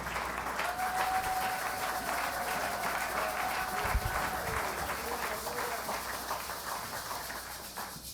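A church congregation applauds continuously and fairly evenly during worship, a dense, sustained patter of clapping that fills the room throughout.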